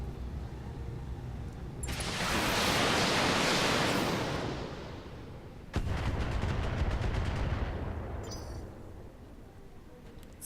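Heavy weapons fire in the BattleTech mech combat video game, a long swelling roar of sustained fire, then a sharp crack followed by a rapid rattling barrage that fades out.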